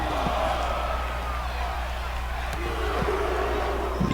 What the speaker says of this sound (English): Hear the crowd counting each knee shot